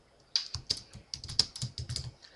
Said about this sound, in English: Okay, I'm going to type our names.